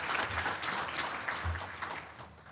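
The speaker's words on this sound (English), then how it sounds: "can we give one last great big round of applause to the staff here" Applause for hotel staff at an educator awards banquet, a brief, fairly dense wash of clapping from a room of guests heard at moderate distance.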